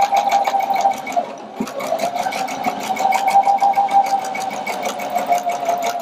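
A sewing machine stitches an apron made from a men's dress shirt, running close and loud with a fast, even needle rhythm over a steady motor whine.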